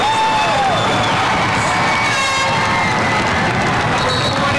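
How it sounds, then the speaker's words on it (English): A packed Lyons Township high school crowd roars and cheers steadily at a 1988 boys' basketball game against Glenbard West in overtime, a loud, sustained wall of shouting and whooping with a horn-like blare rising briefly through it. "Gotta love this Lions Township crowd."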